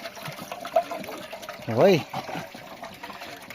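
Water poured from a container into a tub of cattle feed, a short gurgling splash in the middle of the stretch, close by, with someone talking around it.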